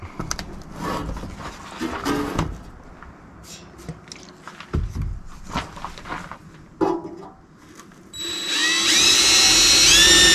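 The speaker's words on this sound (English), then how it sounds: "Just don't want to burn up my drill bit here." A power drill whirs in short intermittent bursts with knocks and handling noises between, then a sustained high-pitched grinding whine as the bit bites into a metal tube for a propane forge.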